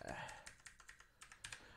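Quiet keyboard typing, a series of irregular key clicks close by, with a brief soft vocal sound at the start.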